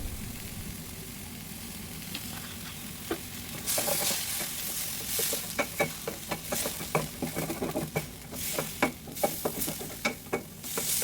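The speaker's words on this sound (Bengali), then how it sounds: "আস্তে আস্তে চিকেনগুলা সিদ্ধ হতে দেব।" Chicken pieces cook in a pan on a lowered flame for tawa pizza, a soft sizzle that swells midway, broken by repeated close spatula scrapes and taps in an irregular stirring rhythm.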